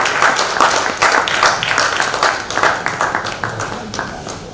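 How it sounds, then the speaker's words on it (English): A crowd gives a big round of applause to Dhrupad music masters at a world music and yoga day event, loud continuous clapping from many hands that slowly thins toward the end. "with a big round of applause, we express our gratitude to these masters"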